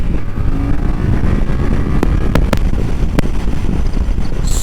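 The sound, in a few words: Yamaha Tracer 7 motorcycle accelerating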